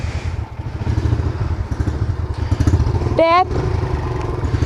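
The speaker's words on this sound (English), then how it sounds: "I just got a new dirt bike" Kawasaki KLX 140 dirt bike engine running nearby, a moderate putter and clatter at idle under a short spoken word and a brief squeal.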